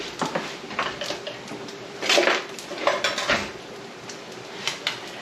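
Macaroni casserole with tomato soup, garlic and onions is stirred in a pot in a home kitchen, giving scattered clinks and scrapes of a utensil against metal, in irregular bursts, close and fairly quiet.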